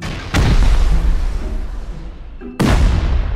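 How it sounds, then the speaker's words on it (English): Two loud C4 blasts during a raid in Rust, each a sharp, heavy boom that rolls off into a long rumbling tail, the second landing about two seconds after the first. "These guys got C4s."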